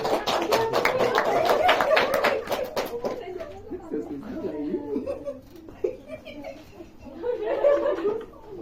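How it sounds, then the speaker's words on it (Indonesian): Children in a classroom clap for one another; a short burst of quick, lively claps dies away after a few seconds, followed by giggling and chatter. "tepuk tangan buat kalian semua"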